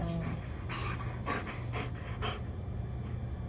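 A puppy pants nearby in quick, regular breathy bursts, about six clear huffs in a steady rhythm before it quiets.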